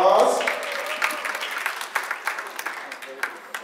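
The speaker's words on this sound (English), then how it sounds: "Can we give him a round of applause?" Audience applause rises at an event after a host's introduction, a burst of clapping that starts strong and thins into scattered claps, with talking over it.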